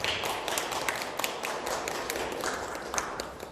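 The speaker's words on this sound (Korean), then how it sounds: "저희 뒤돌아서 박수 한번 부탁드립니다" Audience applause at an indoor political gathering, a quiet patter of scattered claps from a crowd turning around, steady and fairly distant with sharper individual hand slaps standing out.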